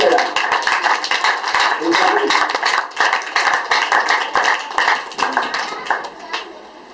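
A church congregation claps together in a steady, rhythmic beat, many hands striking in quick repeated bursts while voices speak and sing over the applause.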